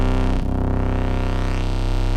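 A PWM Malevolent analog synth plays a triangle wave through heavy distortion, giving a loud, buzzy, sustained low drone whose tone sweeps and shifts as the shape is changed.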